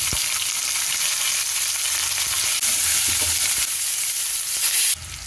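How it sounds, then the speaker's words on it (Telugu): Two small tomatoes go into a pan of fried onions, setting off a loud, steady sizzle and frying hiss that continues unbroken, with a brief scrape near the end. "ఇలా వేగిన ఉల్లిపాయలో చిన్న టమాటాలు 2 వేసుకుని"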